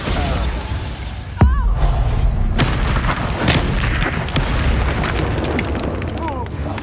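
A Bombarda spell blast in the Hogwarts Legacy game, a sharp booming explosion with shattering crackle followed by rumbling debris and further magical bursts and whooshes, loud and busy throughout.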